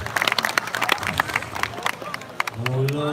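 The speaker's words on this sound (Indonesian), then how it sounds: "tepuk tangan untuk kebersamaan kita pada malam hari ini" An audience at a nighttime Calonarang performance at a temple in Bali breaks into scattered, crisp claps, mixed with crowd noise and a tonal sound rising near the end.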